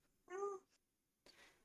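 A house cat gives one clear, close meow, then is quiet, with a short rustle or faint breath following.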